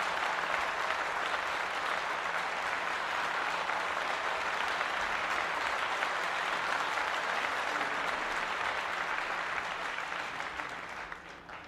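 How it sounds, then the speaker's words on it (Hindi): Sustained applause from an audience welcoming an honoree onto a stage at a women's empowerment award ceremony, steady dense clapping throughout that tapers slightly at the end. "जोरदार तालियों की गड़गड़ाहट के साथ इनका स्वागत कीजिए"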